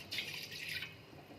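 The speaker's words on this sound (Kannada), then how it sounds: "ಅದಕ್ಕೆ ಇವಾಗ ನೀರು ಹಾಕ್ತಾಯಿದ್ದೀನಿ." Water poured into a small pot sitting on a stove, a short soft splashing trickle heard close up and fairly quiet, lasting about a second.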